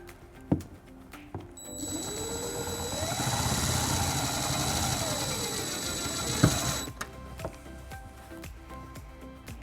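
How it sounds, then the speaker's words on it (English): A power drill drives a self-tapping screw into a Nissan Rogue's body behind the taillight to ground a trailer wiring harness: a steady whirring motor rising and falling for about five seconds, close and moderately loud, framed by a few sharp clicks. "we're going to ground it with the provided self-tapping screw behind our"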